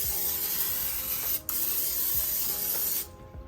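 Cooking spray hisses into a 9 by 13 baking dish in two close, steady bursts, each lasting over a second with a brief pause between, ending abruptly.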